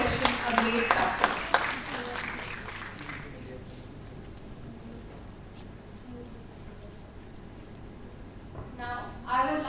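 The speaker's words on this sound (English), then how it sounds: "Let's give one final round of applause to all our speakers for their valuable contributions" Audience applause for the speakers at a principal teacher conference in 2024: a burst of clapping at the start fades into quieter crowd murmur, and a short flurry of claps returns near the end.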